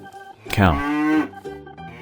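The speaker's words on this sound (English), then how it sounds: "Cow." A cow gives a single drawn-out moo lasting about a second, loud and close, with quieter lowing trailing off afterward and no talk over it.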